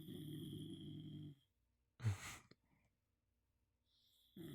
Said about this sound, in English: Oh, you heard the snore?